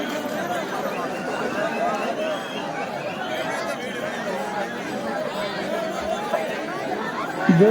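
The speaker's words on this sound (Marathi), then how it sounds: "जसं पुढे जाईल तशी तशी गर्दी मोठ्या प्रमाणात वाढत होती" Large crowd of pilgrims at the temple gate during the Ashadhi Wari: a steady, dense babble of many voices and footsteps, close and continuous throughout.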